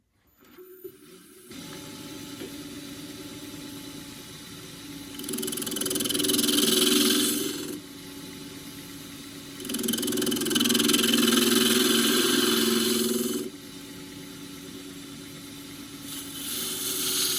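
A wood lathe spins a bark box of very hard Tasmanian horizontal scrub, a steady motor hum that swells into louder rasping bursts as the tool bites in and eases off in cycles.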